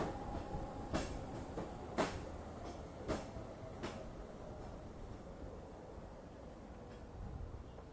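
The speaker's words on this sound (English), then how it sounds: "So that's the tram. Makes its way up the peak" The Peak Tram climbs the mountain slope, a faint, steady rail rumble with a few soft rhythmic clacks, heard from a distance with no voices.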